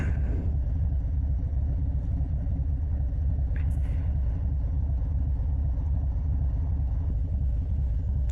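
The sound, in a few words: motorcycle exhaust rumbling while riding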